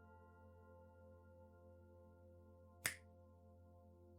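A single sharp finger snap lands near the middle, close and crisp, over a steady low hum with no other sounds.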